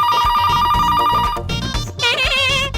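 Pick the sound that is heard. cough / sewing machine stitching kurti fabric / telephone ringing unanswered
telephone ringing unanswered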